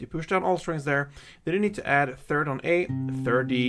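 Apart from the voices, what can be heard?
No everyday noises stand out.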